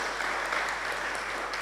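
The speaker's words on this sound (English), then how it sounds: "I would like you to give our two presenters another round of applause" A public forum audience claps for two presenters, a steady moderate spread of hands clapping without pause, with a low steady hum underneath.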